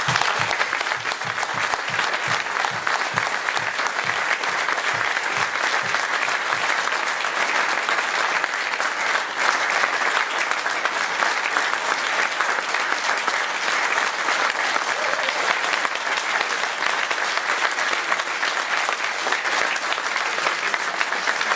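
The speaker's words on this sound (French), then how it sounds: "merci beaucoup pour tous ces applaudissements" Sustained, dense audience applause at a 2014 municipal election campaign program presentation in Livron, France. It is loud and unbroken for over twenty seconds, with no talk over it.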